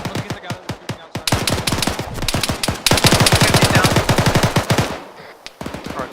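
Sustained automatic gunfire in ArmA 3 rattles loud and close in long rapid bursts, broken by brief pauses, with scattered single shots near the end.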